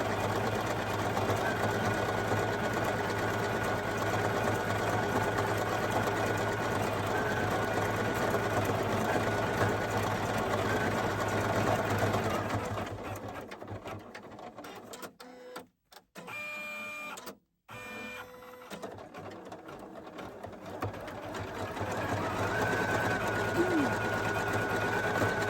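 A Poolin EOC06 embroidery machine runs steadily close by, giving a continuous rapid mechanical whir and hum. Near the middle it briefly drops out and stutters, then resumes its stitching drone.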